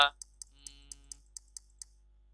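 A computer mouse clicks about eight times in a quick, fairly even rhythm, close and crisp, over a steady low hum, with a brief tonal sound partway through.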